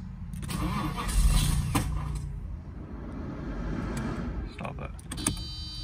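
A Mercedes SL500 with a freshly replaced fuel filter cranks and then catches, the starter churning before the engine fires and settles into a low idle, heard up close with a person speaking over parts of it.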